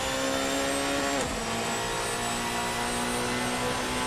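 Protech P91 race car with a 2-litre V4 engine in the Assetto Corsa racing game, droning loud and steady under load, its pitch dipping briefly as it shifts gear before holding a constant whine.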